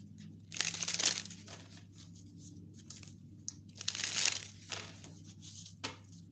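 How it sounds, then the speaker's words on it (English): Tarot cards being shuffled nearby in papery, crinkly bursts, two longer riffles with softer flicks and rustles between them. "Give me a moment to shuffle these."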